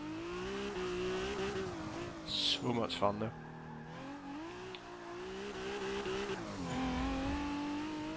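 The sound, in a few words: modified JDM car engine and tyre spin, Forza Motorsport 6 video game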